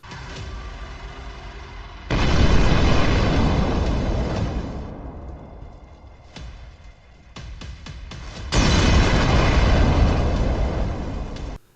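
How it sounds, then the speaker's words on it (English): An FPV drone strikes a tank: a loud, abrupt explosive roar that rumbles and slowly fades, followed by another heavy blast that sustains a deep rumbling roar. "An FPV drone slams into a Russian tank, triggering a massive explosion."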